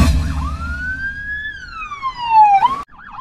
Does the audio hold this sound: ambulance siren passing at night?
yes